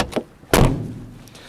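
A single solid thud of a 1989 Wartburg 1.3 car door shutting close by, after a faint click, then a short fading rumble.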